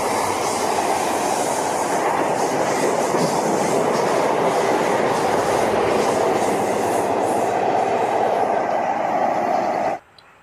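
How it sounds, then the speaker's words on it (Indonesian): A high-speed train roars past at close range in a loud, continuous rush of wheel clatter and rail noise that holds steady for about ten seconds, then cuts off abruptly. "Ini kereta api cepat."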